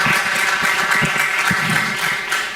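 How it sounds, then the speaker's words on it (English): Audience applause at a health summit in Tanzania, a dense, steady wash of many hands clapping loudly throughout and tapering slightly at the end. "A round of applause"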